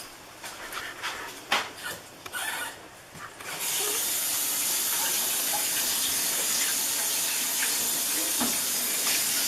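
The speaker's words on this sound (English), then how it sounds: "I'm going to rinse these off." Running tap water pours steadily into a sink as food is rinsed for yaka mein, a loud continuous hiss starting after a few seconds of faint clatter and handling noises.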